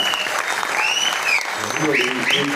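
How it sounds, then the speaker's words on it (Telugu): An audience claps throughout, a dense, steady patter, while voices and cheers rise over it. "ఈ క్లాప్స్"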